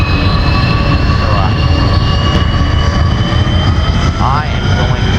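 An airplane engine drones loudly and steadily at a BeamNG video game airshow, a constant close roar with a faint pitch sweep, while people talk over it.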